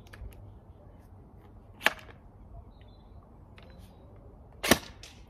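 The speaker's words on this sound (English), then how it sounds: "We have semi-auto." An ASG Scorpion airsoft gun fired on semi-auto gives two sharp, isolated snapping shots a few seconds apart over a quiet background.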